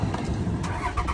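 A 2005 Dodge Ram dually's 5.9 Cummins diesel engine turning over and catching, a deep rumbling idle up close with a slight rev.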